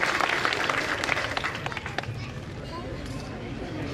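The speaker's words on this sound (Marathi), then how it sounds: "त्यांच्यासाठी एकदा जोरदार टाळ्या झाल्या पाहिजे" Audience applause for Sambhaji Sheth Tambe at a birthday felicitation gathering, a burst of claps loudest at first and thinning out, with crowd chatter and voices mixed in.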